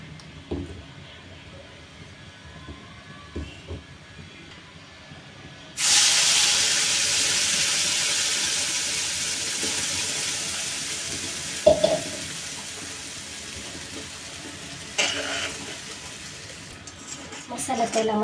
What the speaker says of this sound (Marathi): मसाला तेलामध्ये चांगला फ्राय करून घ्यायचा